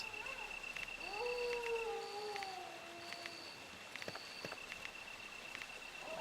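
In Resident Evil on the PS1, dogs give drawn-out overlapping howls that rise and sag, fairly faint against a soft rain-like hiss, with scattered clicks and short tones from the game.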